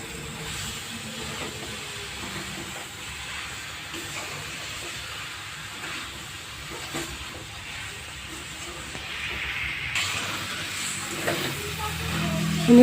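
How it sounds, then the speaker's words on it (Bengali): Figs stir-frying in a pan with potatoes, a steady hiss and sizzle running throughout at moderate level, with faint scraping of stirring and a slight swell toward the end. "ডুমুর দিয়ে এবার ভালো করে কষিয়ে নেব।"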